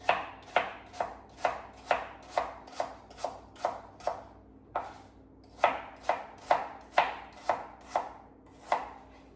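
A knife chops an apple on a board, around eighteen crisp, evenly spaced thuds close up, with one brief pause midway through the run.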